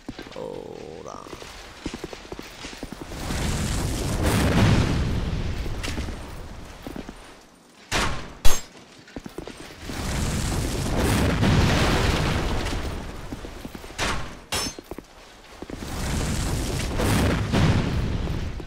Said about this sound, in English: We can also shoot these explosive barrels.